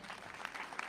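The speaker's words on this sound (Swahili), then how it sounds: "Clap for them, clap for the teachers present." Applause for teachers and school principals at an education gathering in Gatundu, a steady crowd clapping that fills the short moment with a dense, even patter.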